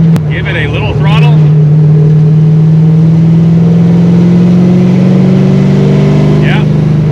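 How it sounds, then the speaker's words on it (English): A junkyard LS V8 truck engine in a 1964 Chevrolet Nova idles with a deep, steady rumble and a low throb, loud and close, with brief voices near the start and end. "Give it a little throttle"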